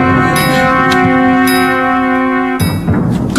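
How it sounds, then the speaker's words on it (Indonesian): A loud, sustained metallic gong tone rings with a steady shimmering hum, ceremonial announcement in a royal court drama, until a sharp new strike near the end cuts in. "Gong!"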